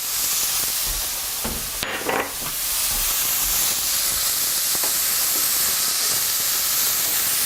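A thickly julienned half onion sizzles in a hot pan with a steady, bright hiss throughout, broken by a brief clatter of stirring early on, with no talking.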